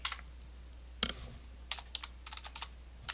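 Close computer keyboard keys tapped in short, uneven bursts while a terminal command is entered, one sharper keystroke standing out among lighter clicks against quiet background hiss, no voices.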